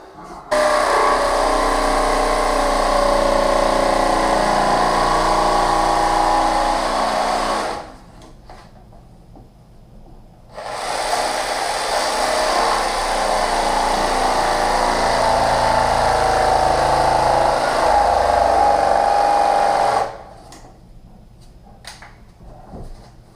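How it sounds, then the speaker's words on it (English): A cordless jigsaw cuts luxury vinyl flooring with a loud, buzzing reciprocating whine in two long bursts, separated by a quieter pause, with a brief lull at the end. "Just use a jigsaw to cut that."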